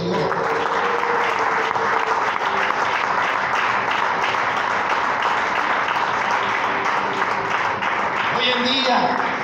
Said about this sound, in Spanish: Alguien que le dé un aplauso a nuestro Dios.